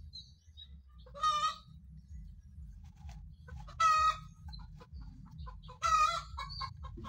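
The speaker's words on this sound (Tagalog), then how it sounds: "Nangingitlog yata na ano manok sa likod. Putak ng putak." A hen clucks in three loud, drawn-out bursts spaced a couple of seconds apart, with softer clucks and a low rumble of background noise between them.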